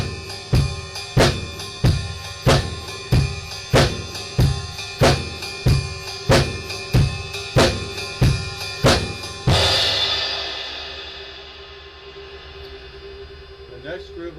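Drum kit playing a shuffle groove with ride cymbal, bass drum and hi-hat, steady swung hits repeating evenly for about ten seconds before a crash rings out and fades.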